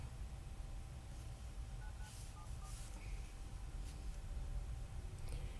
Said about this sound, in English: I can call her on this other phone.